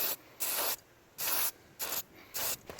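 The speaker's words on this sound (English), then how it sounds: "old black spray paints come in handy" Black spray paint hisses from an aerosol can in four separate bursts, each about a third to half a second long, sprayed up close and fairly loud with short pauses between them.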